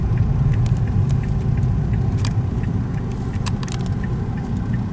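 Busy riverside street traffic with trucks in Bueng Kan, Thailand: a loud, steady low rumble of passing engines close by, with small clinks and rattles.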